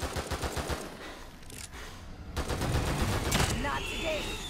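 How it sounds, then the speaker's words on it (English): Harpoon bolts fired from a crossbow in The Evil Within 2, heard as several sharp impacts and shots under steady talk from a voice. "let's use our harpoon bolts on these guys"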